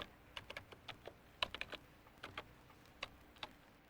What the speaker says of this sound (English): Or I can use the number pad at the right of the keyboard.